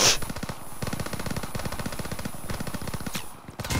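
Rapid automatic gunshots in the video game Call of Duty WW2 hammer out in a steady, dense stream for several seconds, loud and close, with a brief lull near the end before firing resumes.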